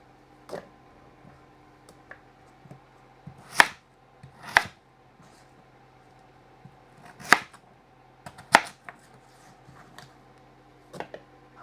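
A kitchen knife dices vegetables on a cutting board. Sharp, irregular thunks sound close by, some louder than others, with quiet gaps between the cuts.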